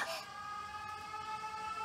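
Wailing air raid sirens in the video game 13 Sentinels: Aegis Rim, a sustained, steady electronic tone that holds without a break after a short burst of noise at the start, with faint speech nearby.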